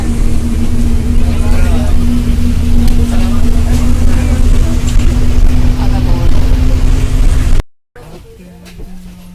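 A local bus in the Konkan region near Malvan runs with a loud, steady engine drone and a constant low hum, heard close throughout before a sudden cut, followed by quieter road rumble.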